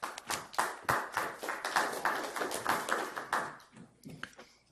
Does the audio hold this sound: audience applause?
yes